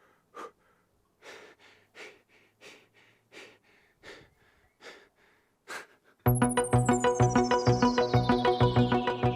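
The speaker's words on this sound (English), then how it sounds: "but I'm recording some breathing as well." Close-miked human breathing recorded as film sound effects, a steady series of about eight distinct breaths, abruptly followed by a loud, buzzing tonal sound with a falling pitch.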